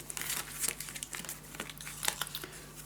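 Sticker backing peeled off during papercraft work on a bee-themed wildflower mini scrapbook album, giving close, crisp crinkling and tearing rustles in quick irregular bursts.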